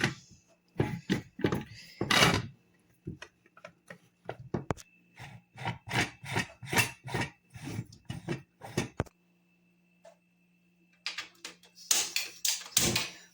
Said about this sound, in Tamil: ஓகே, நம்ம குக்கரை இப்போ மூடிடலாம்.